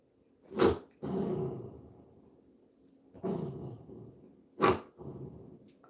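A dog growls while being petted, giving low, rumbling growls in three drawn-out bouts, each set off by a sharp snort or bark-like burst, heard close and fairly quiet.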